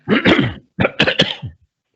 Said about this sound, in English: No coughing, please.